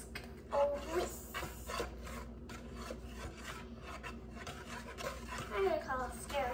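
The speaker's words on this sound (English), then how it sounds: "Now I'm gonna mix it together with my stir stick." A whisk stirs pancake batter in a bowl, giving repeated scraping, rasping strokes in an uneven rhythm, fairly quiet, with some soft background voices.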